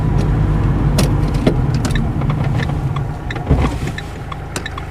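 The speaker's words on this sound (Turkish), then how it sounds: "Bir fren yapalım." A car brakes during a driving exam, its engine humming low inside the cabin while small clicks and knocks from the controls come through close by.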